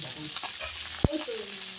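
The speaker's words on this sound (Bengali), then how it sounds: "এবার এটাকে নেড়ে চেড়ে একটু আমি একটু ভাজা ভাজা করব" Diced capsicum, onion and green chilli stir-frying in a pan, a soft sizzle with a sharp clack of a utensil against the pan partway through.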